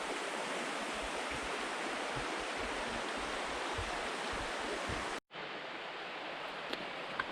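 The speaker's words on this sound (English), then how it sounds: "Just absolutely beautiful streams." A flowing stream at McClintock Park, Wisconsin, rushes in a dense, even wash close by, broken by one sudden cut near the end before the same steady flow resumes.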